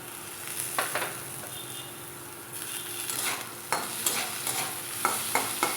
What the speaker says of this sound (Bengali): এর মধ্যে আমি টমেটো কুচানো দিয়ে দেবো।